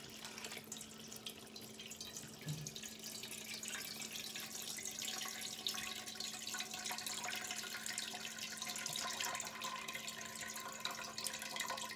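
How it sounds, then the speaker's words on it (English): Mead trickling as it is siphoned through a hop bag, a faint, steady wash of running liquid held for the whole stretch with no voices. "now we're gonna have to siphon through this bag, which should be pretty simple really"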